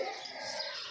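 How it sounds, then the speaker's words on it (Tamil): House sparrows chirping in a tree, a dense bright twittering close by with no pauses over a brief stretch. "இது இப்போ ரேராக இருக்குது இந்த சிட்டுக்குருவி"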